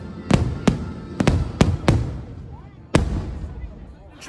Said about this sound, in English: Came out to fireworks going off out here.